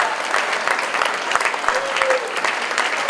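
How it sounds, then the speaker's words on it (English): Audience applause at the USMex Gala 2022 for Julie Charles Betancourt fills the room as dense, steady clapping from a crowd, with voices and cheers mixed in throughout. "A round of applause for Julie Charles Betancourt."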